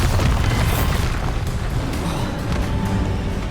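A Bombarda spell explosion in Hogwarts Legacy, a dense, roaring blast of rumbling noise that stays loud and sustained throughout the whole stretch.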